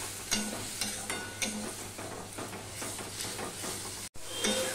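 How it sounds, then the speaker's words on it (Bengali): A spoon stirs and scrapes spice paste with tomato as it sautés in a pan for a pomfret fish curry, giving repeated scraping strokes over a steady sizzle, with one brief dropout near the end. "এবার মশলাটা আমি ভালো করে কষিয়ে নেব, মিশিয়ে নিয়ে"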